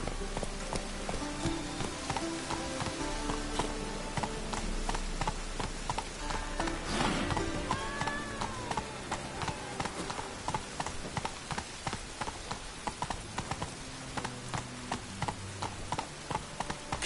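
Roach, Geralt's horse in The Witcher 3, gallops with a rapid, steady clip-clop of hooves, fairly quiet and continuous throughout, with faint rain-like background patter.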